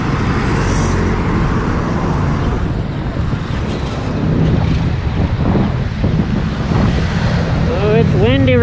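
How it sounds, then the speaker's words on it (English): Strong wind buffets the microphone in steady, roaring gusts on top of the Abacan Bridge in Angeles City, with a low rumble underneath and a faint voice near the end. "Oh, it's windy right now up here"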